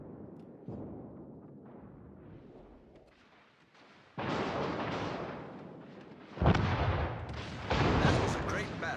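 Naval artillery from warships in the World of Warships video game, a cruiser battle: heavy booming salvos burst in around four and six and a half seconds over rumbling game sound, with voice chatter underneath.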